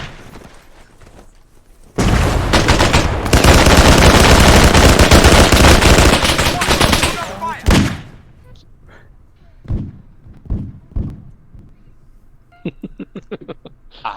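Sustained automatic gunfire in Arma 3 as players shoot at a church, a dense loud burst of several seconds followed by scattered single shots and a quick rattle of rapid shots near the end.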